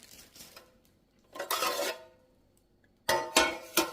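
Metallic clanks and rustling as a new old-fashioned square tube pan is taken out of its bag, a few short bursts of handling noise separated by quiet pauses.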